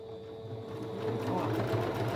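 A sewing machine stitches through fabric scraps being sewn into a rug, its steady motor whir growing louder and denser partway through and running continuously near the mic.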